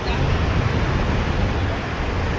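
Steady, dense road traffic rumble from passing cars and buses fills the scene, loud and continuous with no single vehicle standing out.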